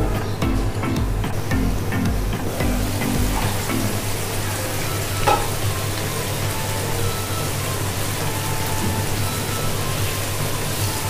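Pabda fish curry with green chillies simmers covered in a pan, giving a steady, even sizzling hiss that sounds much like rain and carries on alone throughout.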